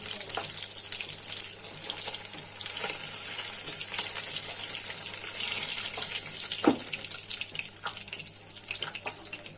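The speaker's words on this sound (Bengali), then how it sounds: "এখন অন্য মাছগুলো ভাজা নিই।" Meni fish fry in hot oil in a pan, giving a steady, close sizzling hiss broken by scattered pops and spatters that run throughout.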